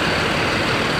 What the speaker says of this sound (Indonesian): ada bus lewat ke Cilacap ya